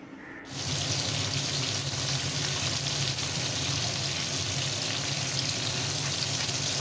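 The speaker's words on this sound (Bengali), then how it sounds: "তেল গরম করলাম আর মাছগুলোকে এপিট ওপিট ভেজে নিলাম" Tangra fish frying in hot oil, a loud, dense, continuous sizzle that starts abruptly and holds steady, heard alone without talk.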